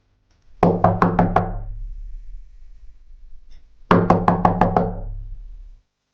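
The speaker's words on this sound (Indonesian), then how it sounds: "Sunardi mengetuk pintu gubuk Mbah Tangil." Knuckles rap on the door of a hut in two close, loud bursts of about five to six quick knocks each, with a pause of a few seconds between them and no voices.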